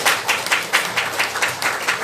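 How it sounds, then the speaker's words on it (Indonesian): Audience at a company seminar for PT Best Eco Racing claps in a steady, rhythmic unison, with regular sharp beats several times a second filling the whole stretch at moderate loudness, no voices. "tepuk tangan untuk Boy Joy."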